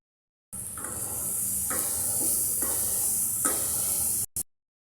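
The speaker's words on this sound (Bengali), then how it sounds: "এখন আমি এই সবজিটা দিয়ে হালকা একটু কষিয়ে নেব।" Vegetables sautéed in a cumin and coriander spice paste give a steady loud hiss and sizzle, broken by several soft scrapes of stirring before it cuts off abruptly.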